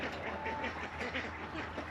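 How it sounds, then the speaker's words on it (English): Ducks quacking in a farmyard with roosters nearby, a steady run of short nasal calls at moderate distance over a low background hum. "look at them ducks."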